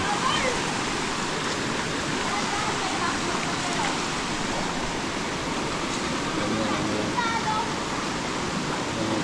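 Karugo Falls in Montalban, Rizal, pours down in a loud, steady roar of rushing water. The broad, unbroken wash sounds close and continuous throughout.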